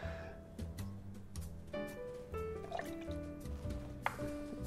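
Aquafaba is poured into a vegan amaretto sour at a bar, a quiet liquid glug and dribble with wet drips and a brief splash near the end, close and soft, alone.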